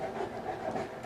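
Steady rapid panting from a nearby dog, continuous breathy huffs with a faint whine under them.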